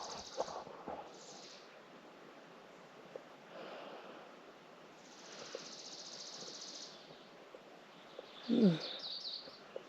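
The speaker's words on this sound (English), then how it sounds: "Some birds chirping, maybe hopefully you can hear that." Birds chirp faintly on a peaceful morning at a campsite in the Grand Tetons, with scattered distant calls and trills over a soft wind or water hush, and one brief, closer call near the end.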